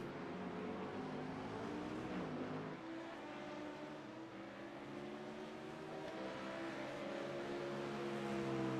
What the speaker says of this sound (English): Letting on by the LMP2 at Tiki Sim Sport.